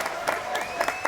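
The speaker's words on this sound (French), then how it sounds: "Allez, applaudissements pour Guillaume" A small group applauds a guest named Guillaume on a radio show, with a few scattered claps and light crowd noise, fairly close and brief, under a faint tone.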